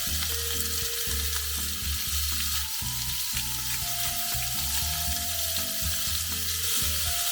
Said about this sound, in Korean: 팬을 달군 후에 항정살을 전부 넣고 가볍게 소금과 후추를 뿌려 구워줍니다.